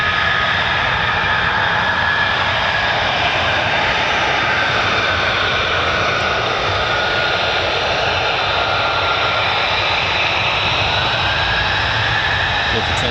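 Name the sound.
F-15E Strike Eagle or F-35A fighter jet taking off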